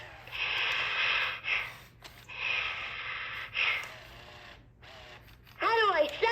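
A toy teddy bear character at a pretend doctor's visit draws two long, hissing breaths in and out, then gives a short rising vocal sound, close and fairly soft over a faint steady hum.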